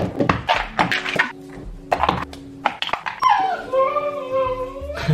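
A small dog whimpers and yips in short bursts near the microphone before feeding, the cries rising into a longer whine toward the end, with a few soft thunks around it.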